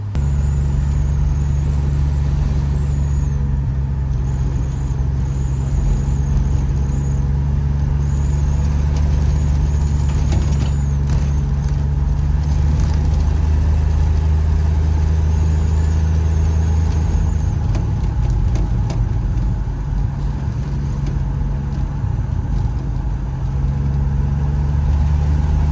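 An abandoned Plymouth Barracuda's engine runs while the car is driven, a loud, steady low rumble with road noise that holds through the whole stretch without a break.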